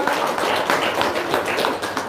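A brief spell of hand clapping, a quick run of close, dry, fairly regular claps lasting about two seconds.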